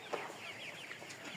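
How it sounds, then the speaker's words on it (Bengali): Broiler chickens at a wholesale poultry branch in Hemayetpur cluck softly and continuously, a busy low chatter of many birds close by with no talking. "আর এই মুরগিগুলো সম্পূর্ণ সুস্থ, আল্লাহর রহম।"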